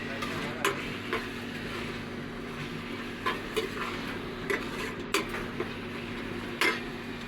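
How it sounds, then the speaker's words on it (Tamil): Chicken boiling in a pan gives a steady bubbling sizzle, with a few light clinks of a utensil against the pot now and then. "சிக்கன் கொதிக்குது."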